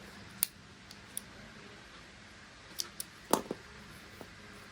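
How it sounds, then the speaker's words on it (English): Scissors snip through crochet yarn in a few sharp, close clicks and cuts, sparse and irregular against a quiet room, with no voice present. "you chain one and you cut off the yarn"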